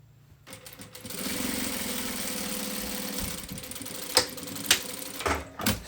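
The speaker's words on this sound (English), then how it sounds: "I'm going to stitch the shoulder just to secure the stitch, back stitch." A sewing machine back-stitches a shoulder seam on a men's Ankara garment, humming steadily at close range for a few seconds before slowing, followed by sharp clicks and clatter.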